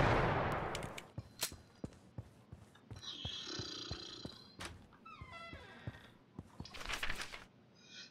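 Scattered gunshots from The Final Station, a train-survival video game: sharp isolated bangs and thumps spaced irregularly over several seconds, with game effects and a brief burst of noise between shots, no talk.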